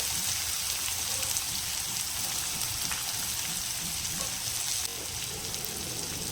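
The white part of chopped onion sizzles steadily in hot oil with cumin and a pinch of hing, a dense, even frying hiss close up that continues throughout.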